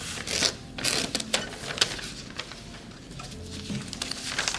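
Origami paper torn by hand along a fold while making a samurai helmet, heard as a series of short, crisp rips and rustles close by, with soft handling noises between them.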